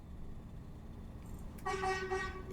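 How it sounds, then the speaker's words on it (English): A horn toots in the distance, a steady tonal blast lasting about a second over constant low road rumble. "we've just had a toot off an air horn from in the background there"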